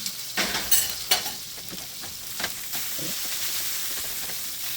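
Fried beef sizzling in a frying pan, a steady hiss and crackle throughout, with a few louder stirring clatters and scrapes near the start.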